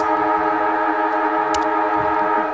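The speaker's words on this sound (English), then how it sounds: "Just as the siren goes to for half-time here." A football ground siren at a Northern Territory Premier League match sounds for half-time, a loud sustained wailing tone with steady harmonics held throughout, a brief sharp noise near the middle.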